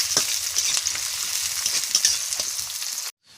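Onions sizzle and crackle as they fry in hot oil, a bright, continuous hiss with occasional stirring clicks up close, cutting off abruptly at the end.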